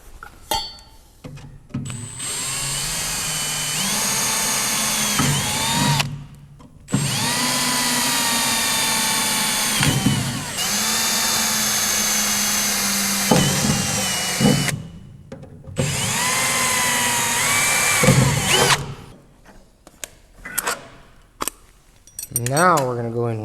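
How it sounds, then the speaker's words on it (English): A power drill bores pilot holes in a new crossmember on a 1965 Ford Mustang, several sustained whining bursts separated by short pauses, with clinks and handling noises between them. "we are drilling the pilot holes for"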